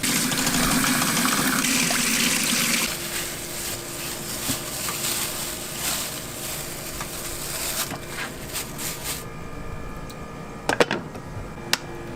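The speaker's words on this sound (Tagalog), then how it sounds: "lalagyan muna natin to ng tubig dahil papakuluan natin to" Water pours into a pot holding four longganisa sausages for boiling, a steady close gush that eases after a few seconds into a softer trickle, with a couple of sharp clinks near the end.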